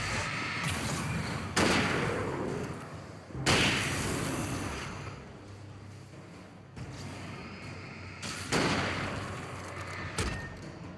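Flashbang grenades are thrown and go off in Alan Wake Remastered: several loud bursts, each a sharp crack followed by a hissing rush, spaced a few seconds apart over a low rumble.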